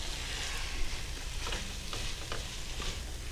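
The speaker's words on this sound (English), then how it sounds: "I will add the mushrooms back into the hamburger meat. Stir it all together." Mushrooms get stirred into hamburger meat frying in a pan, giving a quiet, steady sizzle with soft scraping strokes of a utensil every half second or so.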